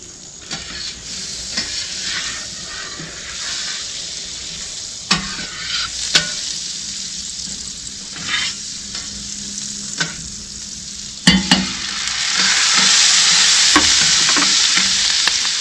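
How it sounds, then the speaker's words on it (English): Butter sizzles on a Hunsaker griddle with a steady, close frying hiss, broken by scattered scrapes and taps of a utensil, and the sizzle swells louder toward the end. "I'm going to throw down some butter."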